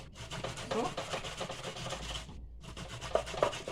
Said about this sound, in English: So me I gonna start grate like arrowroot now.